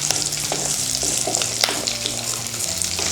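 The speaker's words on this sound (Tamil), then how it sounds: "அடுத்ததாக வெங்காயம் சேர்த்துக்கலாம் வெங்காயம் சேர்த்து நல்லா இதை வதக்கிடலாம்" Onions sauté with vadagam, a dried seasoning ball, in oil for a Catla fish curry. The frying sizzle is loud and close, with a low steady hum underneath and light stirring scrapes, and no talking.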